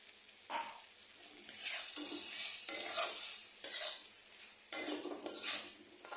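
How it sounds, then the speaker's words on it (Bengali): Garam masala being stirred into cabbage in a cooking pan, a busy scraping and sizzling sound in several bursts with short pauses, close and moderately loud. "এখন আমি এই বাঁধাকপিতে গরম মশলাটা দিয়ে দেবো।"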